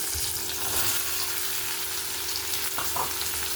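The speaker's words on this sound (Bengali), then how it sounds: "এখানে আমি আলু আর বেগুনটা প্রথমে দিয়ে দেবো" Potato and eggplant fry with spices in a pan, giving a continuous bright sizzle close up, with a few stirring knocks near the end.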